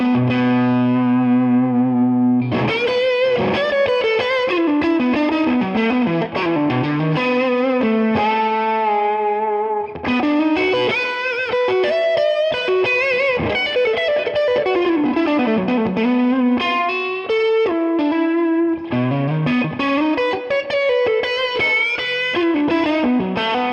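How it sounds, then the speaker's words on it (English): A PRS electric guitar on its single-coil pickups, driven through a Tube Screamer overdrive, plays a continuous run of loud, sustained chords and melodic lines with a brief pause near the start. "So now I've engaged the tube screamer just to hear how the single coils react with that"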